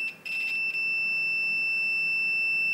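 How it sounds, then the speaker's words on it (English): A handheld digital multimeter's continuity buzzer (Vichy VC97 or Victor V97 type) gives a steady, piercing high-pitched tone that sounds almost without a break once the test leads touch, loud and close. "see what it does with the continuity buzzer"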